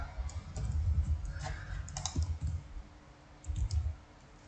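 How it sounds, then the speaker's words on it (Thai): Quiet clicking keystrokes on a computer keyboard while entering vehicle details into an online car-booking web form, with short bursts of taps separated by pauses, close and soft. "เราพิมพ์ไปก่อนครับ"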